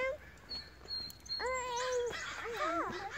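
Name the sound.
crows cawing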